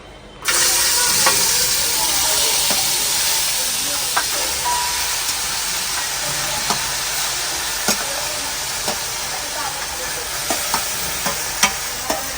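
Tomato chutney ingredients sizzle loudly in hot oil, a dense steady frying hiss that starts suddenly, with occasional sharp crackles and spoon scrapes through it.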